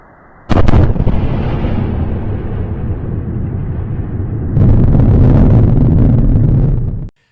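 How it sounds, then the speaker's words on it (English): Two sharp, powerful sonic booms from a returning SpaceX Falcon 9 first stage hit in quick succession, then a long loud rumbling roll that swells again before cutting off. "with dual sonic boom re-entry of a Falcon rocket"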